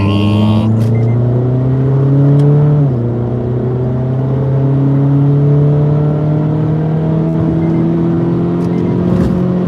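A car fitted with a loud, raspy fart-can exhaust revs hard, its droning note climbing steadily, dropping briefly, then rising again, close and loud throughout.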